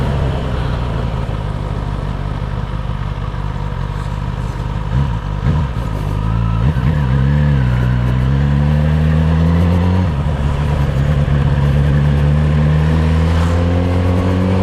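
Suzuki GSX-S motorcycle engine with an electrical misfire, running loud and close, idling roughly before several revs that rise and hold in a long sweep, with no talking.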